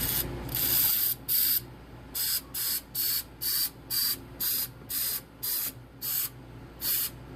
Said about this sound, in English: we're just gonna spray the stripper on top of that